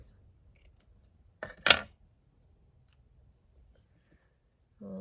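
Scissors snipping a cabinet card photo, two quick crisp cuts close by in an otherwise quiet room, with a brief soft sound at the end.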